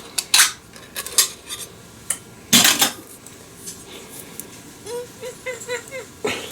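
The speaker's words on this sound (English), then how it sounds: "plooping our soup in our casserole dish" Soup for a golden mushroom chicken dinner is scooped into a casserole dish with repeated scraping, clinking clatters of a spoon against cookware, coming in irregular bursts close by.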